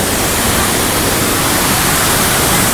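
A river in North Lebanon rushes steadily, a loud, close, unbroken roar of flowing water with no other sounds.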